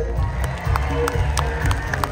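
An audience at a live concert in Saratoga applauds a band member, with a short burst of clapping and crowd noise mixed with scattered voices and stage sound.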